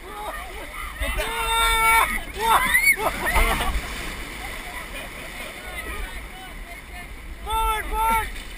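Raft plunging through whitewater rapids, loud churning splashes and sloshing water throughout, with people shouting and yelling over the roar.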